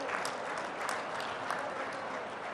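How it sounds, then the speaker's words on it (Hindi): An audience at a Rozgar Diwas government ceremony gives a steady, dense round of applause for a minister, many hands clapping evenly at moderate distance for the whole stretch. "उनका भी जोरदार ताली बजाकर स्वागत करें।"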